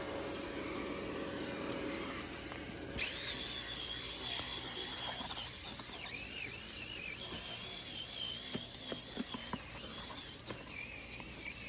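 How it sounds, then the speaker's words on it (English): A power drill with a brush attachment whirs with a high, steady whine that shifts in pitch, with close scrubbing and brushing noises as it cleans a car's interior upholstery. "This drill comes in handy"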